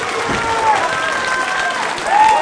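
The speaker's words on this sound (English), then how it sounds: "This crowd in Newcastle are fully behind Prospect." Wrestling show crowd in Newcastle cheering and applauding in a steady, dense roar, with a commentator's voice running over it.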